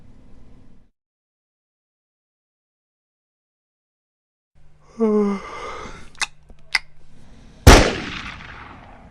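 A single sharp gunshot rings out near the end, loud and close, after a stretch of silence and a few brief voice-like sounds and clicks.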